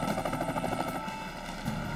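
A rescue helicopter works over the wreckage of a plane crash in the Potomac River, its rotor a loud, dense continuous thrum with rhythmic pulsing that eases slightly midway.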